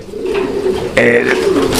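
Fancy pigeons kept on a small home farm, a breeding pair with eggs, give soft throaty coos, two close phrases in quick succession.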